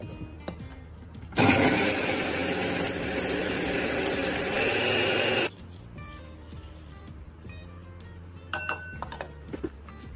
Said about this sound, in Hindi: ये हमारा मसाला बहुत अच्छी तरह से ग्राइंड हो गया है।